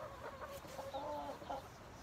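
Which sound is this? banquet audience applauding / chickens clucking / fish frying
chickens clucking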